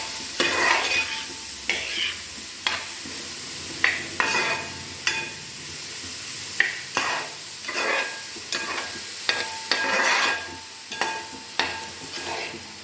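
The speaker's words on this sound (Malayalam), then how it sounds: "നല്ലപോലെ ഇളക്കാം." Shredded cabbage stir-fry is stirred briskly in a hot pan, with repeated scraping and clacking strokes of the spoon coming in an irregular rhythm over a constant close sizzle.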